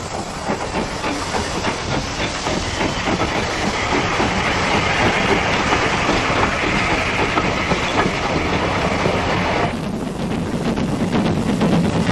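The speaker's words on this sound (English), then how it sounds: "As the train passes, tokens are exchanged between signalman and driver." A heritage train passes on the Keighley & Worth Valley Railway, loud and close, with a broad hissing roar and rhythmic wheel clatter that shifts in tone toward the end as it goes by.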